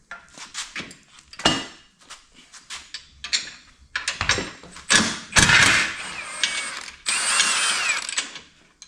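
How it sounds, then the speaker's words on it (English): A ratchet clicks in short, loud bursts while removing a broken sway bar link from a wrecked Can-Am Commander side-by-side, with metallic clanks of tools and parts between the bursts, close up and with no talking. "Just gonna remove this broken sway bar link here."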